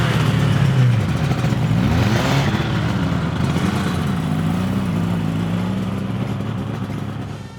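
Two-stroke motorcycles pull away together, a loud, continuous engine drone whose pitch climbs and dips through several revving swells before fading slightly at the end.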